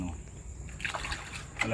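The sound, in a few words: splashing leftover water inside a chicken coop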